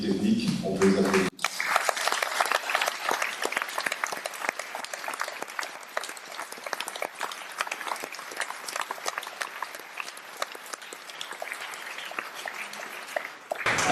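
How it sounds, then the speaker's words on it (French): Audience applause for a festival's technical crew at an awards ceremony, a dense sustained burst of clapping that starts abruptly and carries on steadily, fairly loud, with murmured voices underneath. "On peut les applaudir."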